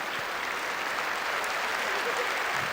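Studio audience applause on an Azerbaijani television talk show about newlyweds and mothers-in-law, a steady, dense wash of clapping that fills the whole stretch at even volume with no voices over it.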